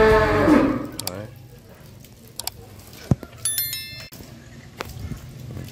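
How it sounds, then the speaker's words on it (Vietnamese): Cattle moo loudly near the start, a drawn-out low call from a pair of Sind-cross and Red Sindhi-type crossbred cows on a Vietnamese farm, followed by quieter thumps, faint clinks and a distant bell-like ring. "Đấy, các bác nhìn cái bò sướng."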